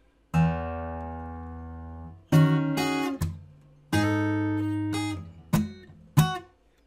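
Acoustic guitar plays a slow passage, with ringing strummed chords, muted string slaps and sharp percussive hits separated by brief pauses.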